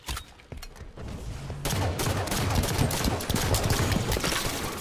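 Dense, rapid gunfire in Halo 5 fills the clip, with sharp repeated shots building into a loud, continuous barrage close by.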